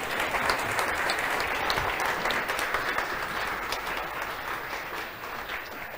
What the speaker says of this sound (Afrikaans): Julle kan maar hande klap gee.